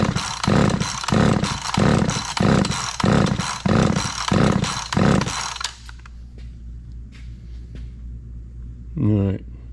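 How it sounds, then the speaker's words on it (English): A chainsaw starter cord is pulled repeatedly with the throttle held wide open during a compression test, giving about nine loud, even rhythmic chugs before stopping, then near silence and a brief voice. "So now we're gonna pull it with the throttle wide open on it, still sitting on 100 PSI."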